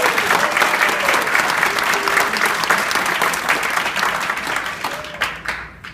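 Sustained applause from a wedding reception audience, dense and loud throughout, tapering slightly toward the end as the clapping thins out.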